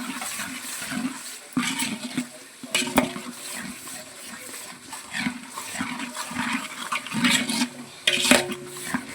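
Spice masala sizzles and crackles in a pan after being stirred into fried ginger, garlic, onion and tomato paste, with steady frying noise and occasional scraping clatters close by.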